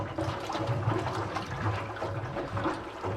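An Evinrude 25 outboard motor sits in a water barrel with its pump sputtering and gurgling water, a continuous splashy, bubbling wash with no clear rhythm, fairly faint and close.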